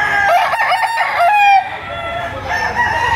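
Loud, close chickens crowing and clucking, Super Brown Red crosses, with a rooster's call rising over several overlapping squawks.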